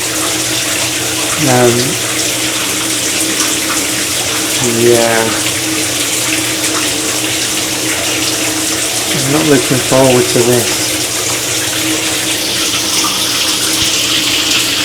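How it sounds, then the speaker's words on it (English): Push-button shower running aboard a long-distance passenger train crossing Canada, a steady hiss of falling water throughout with occasional gasping vocal sounds and a few spoken words over it. "So I think it works by pressing the button, and it will give out a couple of minutes of water."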